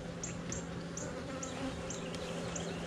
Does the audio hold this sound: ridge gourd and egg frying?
no